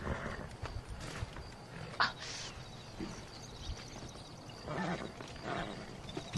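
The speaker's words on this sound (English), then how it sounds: "Up on the horse you go." A horse is mounted and ridden in the Western video game Red Dead Redemption, with intermittent hoof clops, snorts and gear rustles over a low ambient game soundscape, moderately quiet.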